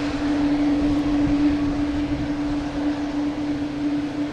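Steady, loud roar of a Lufthansa airliner at Boston Logan Airport, with a strong constant hum and broad rumble running through the whole stretch and no voices.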